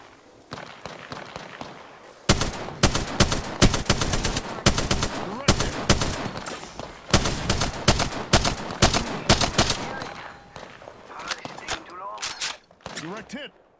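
Dense bursts of automatic gunfire from the battle royale shooter Apex Legends, rapid loud volleys with short gaps running through most of the stretch, with a player's voice and game callouts talking over the shooting.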